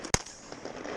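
A single sharp shotgun blast during a duck hunt, sudden and loud near the start, then fading into low outdoor ambience with no talk.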